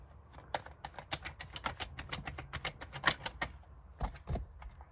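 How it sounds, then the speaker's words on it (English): Tarot cards are shuffled by hand, a rapid irregular run of crisp clicking snaps with short pauses, close and fairly quiet, with no talking. "Why do I keep wanting to shuffle my cards?"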